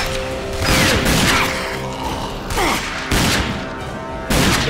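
Gunfire in the shooter game Rage: repeated loud bursts of automatic weapon fire with sharp impacts and rumbling booms, several volleys across a few seconds, no talk over them.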